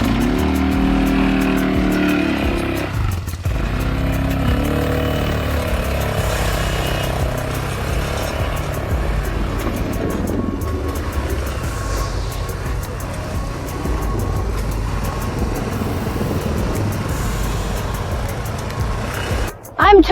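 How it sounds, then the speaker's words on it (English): A pit bike engine runs steadily throughout, with a continuous motor drone and some revving, while people talk over it outdoors during a dirt bike and ATV outing. "I'm turning the pit bike around."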